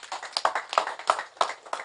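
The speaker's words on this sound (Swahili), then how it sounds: "Tujipigie makofi." Applause from an audience at a speech by a medical centre CEO, a short burst of quick, uneven claps with sharp peaks over about two seconds, fairly close and without speech.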